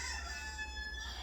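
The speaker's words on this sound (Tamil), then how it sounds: "பார், அது கோழி" A rooster crowing in a short, distant but clear burst with a rising and falling tone over a low background hum.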